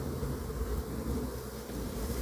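Honey bees buzz in a dense, continuous drone around an opened hive after smoking, close and steady with no break.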